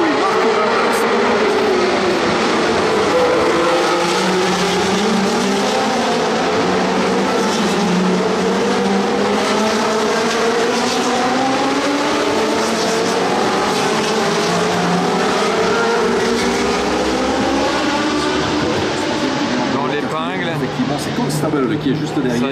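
Historic Ferrari race cars climb toward the casino on the Monaco circuit, engines rising and falling in pitch as they pass, with a continuous loud roar under excited commentary.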